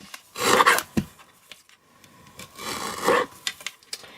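Card stock is trimmed for a card sentiment with two short rasping cutting strokes close by, separated by a quiet pause, with a light tap between them.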